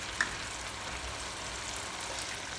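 Spices toasting in a hot pan for BBQ shrimp, a faint, even sizzle with one tiny tick near the start, quiet and without talk.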